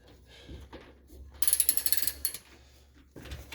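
A ratchet with an impact socket working loose the front lower control arm bushing bolt on a 2007 Honda CR-V, a burst of rapid clicking mechanical bursts amid quieter workshop clatter, close and moderately loud.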